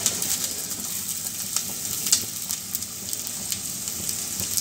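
Ginger, garlic and green chili fry in hot oil in a pan, giving a steady, fairly loud crackling sizzle with small pops scattered throughout, and no voices.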